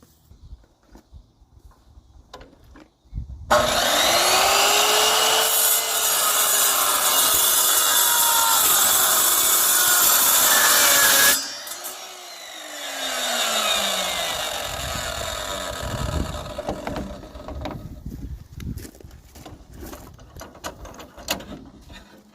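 A cutting tool works through a piece for a shipping container door, a loud continuous grinding whine for about eight seconds that stops abruptly, then a softer winding-down rush and scattered scraping and clatter.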